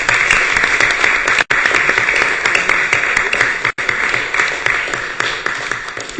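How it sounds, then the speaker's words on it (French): Applause in a departmental council assembly, dense sustained clapping from a crowd that stays loud and steady throughout with no voices standing out. "je pense qu'on peut vous applaudir chaleureusement"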